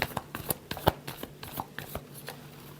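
Tarot deck being shuffled by hand, a rapid series of close papery riffles and taps in irregular bursts, with no talk.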